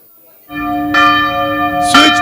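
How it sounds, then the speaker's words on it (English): A conference bell rung to signal a seat switch: a loud, close, sustained ringing tone with bright overtones, struck again partway through, over a low murmur of room noise. "The next bell you hear is just for you to switch within your table."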